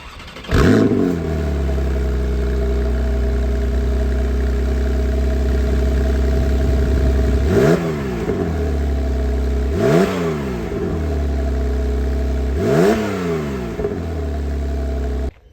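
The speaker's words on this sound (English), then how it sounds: "The wonderful masterpiece that is called the flat 6 engine." A Porsche 911 Targa 4S of the 991.2 generation with a flat-six engine idles steadily at close range. Several sharp rev blips rise and fall back to idle, spaced a few seconds apart.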